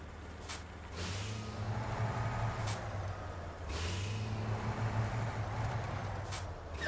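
A truck repeatedly ramming a trailer hung up on a pole, heard as a steady low engine rumble with sharp hissing air-brake bursts, close and continuous with no talk.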